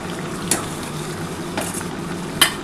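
Hot water poured into a pan of hand-mashed soybean and potato kasha curry, a steady hiss and bubbling sizzle with a few sharp clinks of a utensil against the pan.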